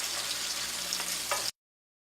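Pierogi frying and browning in a pan give off a steady, dense sizzle that carries on evenly for about a second and a half, then cuts off abruptly to silence.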